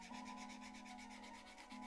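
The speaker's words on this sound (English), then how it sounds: "So I'm going to go with the sanding stick now." Steady back-and-forth rasping of a medium-grit sanding stick on a small surface of a 1/35 scale T-54B tank model, close and fairly quiet, in even rhythmic strokes in one direction with no talking.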